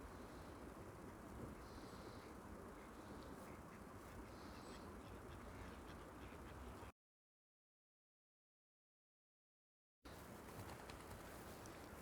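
Ducks quack softly by a river in Kvinesdal, Norway, among steady outdoor ambience, with a few bird calls; the sound cuts out to silence for a few seconds before resuming.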